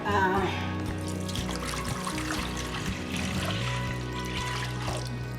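Water pours steadily into a Salad Master steamer pot for several seconds, a continuous splashing rush over a low resonant hum.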